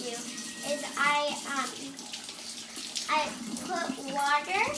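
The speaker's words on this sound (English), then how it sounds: "I'm gonna do washing hands." Hands being washed with water and soap at a tap, a steady close running-water wash under a voice speaking over it throughout.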